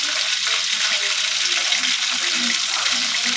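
Chicken frying in a hot pan of oil gives off a steady, dense sizzle that holds throughout, close and loud, with faint low clinks underneath.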